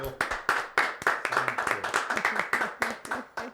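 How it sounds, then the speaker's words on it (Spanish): A small group of people claps in applause, with sharp, close, slightly irregular hand claps in quick succession for a few seconds. "Eso merece un aplauso."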